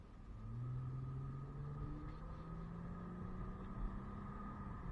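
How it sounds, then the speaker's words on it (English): A 2008 Acura TL Type-S with cold air intake and a stage 3 muffler-delete exhaust drones under load while driving, a deep, steady rumble rising in pitch as it accelerates, heard from inside the cabin. "The Injen cold air intake and my stage 3 muffler delete exhaust sound fantastic."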